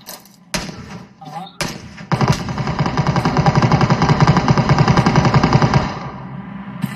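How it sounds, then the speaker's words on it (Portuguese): Video game gunfire: a couple of isolated sharp shots, then a long rapid machine-gun burst with a steady repeating rhythm, loud and close, with voices talking faintly underneath. "Tá atirando em você?"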